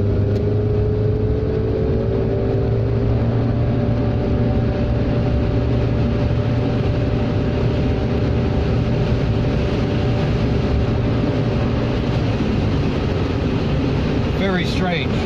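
Fiat Panda Mk2 Selecta with automatic transmission pulling away from a standstill, its engine droning at one steady, unchanging pitch as the car gains speed, with road and cabin noise constant throughout.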